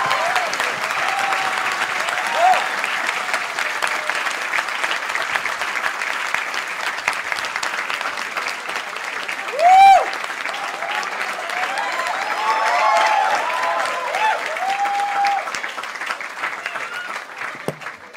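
A crowd claps continuously for a long stretch, steady and enthusiastic, with occasional cheers and whistles rising above the applause.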